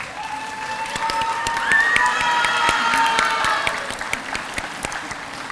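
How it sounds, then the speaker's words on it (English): Audience at a medical imaging program pinning ceremony applauding graduates' support system, sustained clapping with cheers and whoops swelling in the middle, then easing off while still going. "give a big round of applause"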